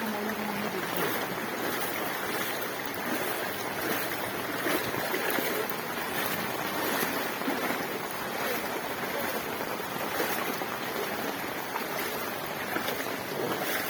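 Floodwater pouring in from a canal makes a steady, unbroken rushing wash with a windy hiss, continuous and fairly close throughout, with no voices.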